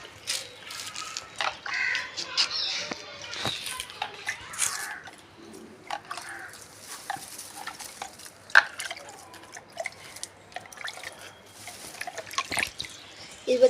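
Water sprinkled by hand over potted plants, heard as irregular close splashes, drips and trickles with soft patters between them, while a person talks intermittently.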